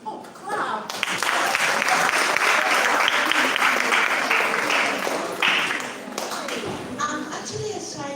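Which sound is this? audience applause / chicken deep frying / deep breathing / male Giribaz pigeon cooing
audience applause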